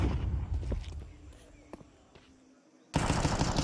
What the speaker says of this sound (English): Senzu hoping to rattle ahead with the Desert Eagle